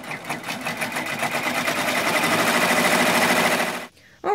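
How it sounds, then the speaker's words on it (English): An embroidery machine stitches a bean stitch through layered fabric on an in-the-hoop bookmark, a loud, steady rapid needle chatter running for about four seconds before it abruptly stops. "I hit go, and it's going to stitch out a nice clean bean stitch"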